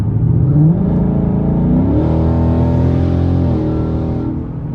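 A 2019 Ford Mustang GT with a 10-speed automatic accelerates hard. The loud, close engine note climbs, drops at a gear change, then holds steady while easing slightly at the end.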